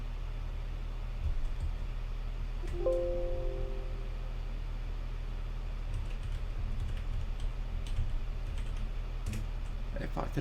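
Quiet clicking of a computer keyboard while firmware is configured for a Voron V0 3D printer build, with sparse, faint keystrokes over a steady low mechanical hum.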